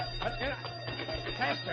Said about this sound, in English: Hey, that's the alarm.